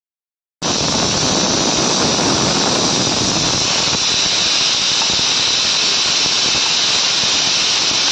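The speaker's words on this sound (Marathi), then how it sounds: "एका साईडला कुकरच्या शिट्ट्या होत आहेत" A pressure cooker on a village kitchen stove lets out a loud, continuous steam hiss and whistle that starts abruptly after a short silence and holds steady, close and overpowering, to the end.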